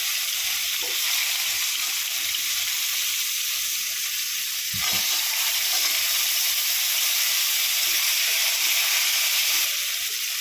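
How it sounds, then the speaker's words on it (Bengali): Pieces of bottle gourd and drumsticks sizzle in hot oil in a pan, a dense, steady frying hiss that holds for about ten seconds with a brief stir near the middle and no talking. "লাউগুলো আমি একটু ভেজে নিলাম, হালকা ভেজে নেবো লাউ আর এই সজনে ডাঁটাগুলো।"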